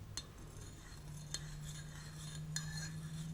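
A spoon clinks against a coffee cup in three sharp, separate taps spaced about a second apart, close and fairly quiet over a steady low hum.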